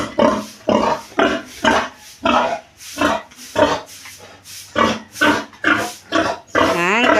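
A pregnant sow close to giving birth grunts about a dozen times in a steady rhythm, each short grunt loud and close, with brief pauses between them.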